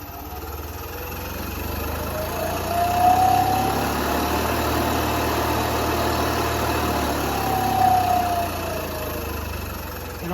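Newly installed air compressor sold as quiet, with a soft start, running steadily after switching on, an even motor drone with a low hum and two brief tonal whines.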